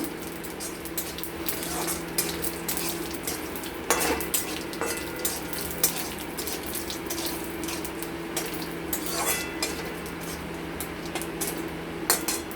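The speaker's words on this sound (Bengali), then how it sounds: "আমরা গোটা জিরে, চিনি আর সামান্য হিং। দিয়ে এটা একটু লাল লাল করে ভেজে নেব।" Whole cumin seeds, sugar and asafoetida fry in a pan for a vegetarian moong dal, giving a steady close sizzle with scattered sharp crackles and light scraping of a utensil against the pan.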